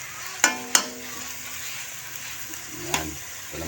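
Squid sautéing in a pan, cooked with seagrapes: a steady soft sizzle throughout, broken by three sharp metallic knocks of a utensil against the pan.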